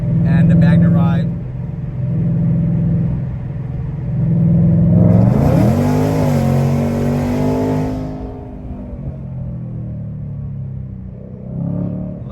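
A Ford Mustang Dark Horse rumbles loud and close, its engine revving up through a rising sweep and then settling back to a deep idle with exhaust burbles, while people talk over it.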